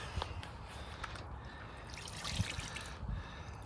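Water being poured over a freshly caught 16 lb carp lying in a sling at a fishery, heard as a steady close trickle and splash with a few drips throughout, no talk.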